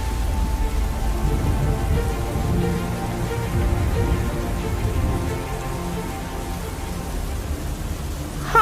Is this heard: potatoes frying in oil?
no